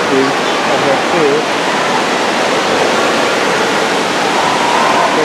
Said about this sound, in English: Going down the water slide.